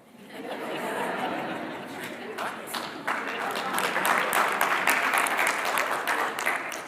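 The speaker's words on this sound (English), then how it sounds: "Only parents are clapping right now." Audience parents clap and chuckle during a church service, a broad wash of applause that swells midway and stays fairly loud, mixed with scattered laughter and murmuring chatter.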